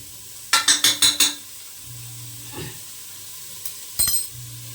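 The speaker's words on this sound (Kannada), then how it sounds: "ಚೆನ್ನಾಗಿ ಇದನ್ನ ಫ್ರೈ ಮಾಡ್ಕೊಂಡು ಹಸಿ ಸ್ಮೆಲ್ಲೆಲ್ಲ ಹೋಗ್ಬೇಕು" Ginger garlic paste frying in a pan: a quick run of four sharp utensil clacks against the pan, then a low sizzling hum with another brief clatter near the end, no voices.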